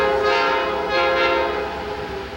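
A southbound Reading Blue Mountain & Northern freight train at Port Clinton blares its horn as it passes, a loud, sustained chord that fades slightly toward the end over low rumbling.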